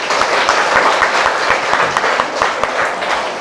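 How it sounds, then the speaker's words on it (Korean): An audience at a Korean church sermon breaks into sustained applause, dense and steady clapping from many hands that keeps going without a break, with a few louder claps poking out now and then. "박수 한번 합시다"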